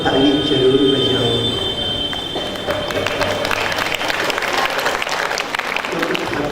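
Devotees at a Shrimad Bhagwat Katha religious discourse clap in a dense, sustained wash of applause, joined partway through by a steady hum and music-like tones in the hall.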